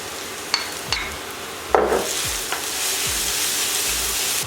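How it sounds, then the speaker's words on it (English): Garlic and Scotch bonnet pepper sizzle in a hot pan, a loud steady frying hiss with several sharp utensil knocks early on and a burst of spattering as the ingredients hit the oil. "I'm going to go in with my garlic and then my Scotch bonnet pepper."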